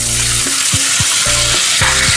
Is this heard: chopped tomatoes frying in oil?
yes